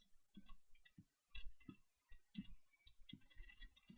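Soft mouse clicks tick at a computer desk in scattered, irregular taps, quiet and close against near silence.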